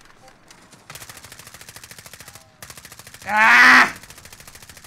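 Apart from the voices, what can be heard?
gunfire in video game Call of Duty Warzone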